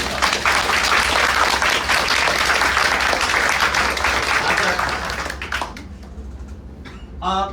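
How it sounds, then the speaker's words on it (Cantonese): Audience applause at a book launch, a dense sustained wash of many hands clapping for about five seconds, then thinning to scattered claps that trail off, with a brief burst near the end. "我哋又再次俾啲掌聲"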